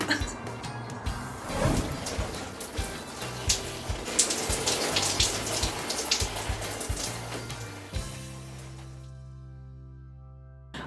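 A shower runs as a steady broadband hiss of falling water for about eight seconds and then stops abruptly, leaving a quiet low tonal hum.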